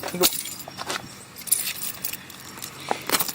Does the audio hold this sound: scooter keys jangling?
yes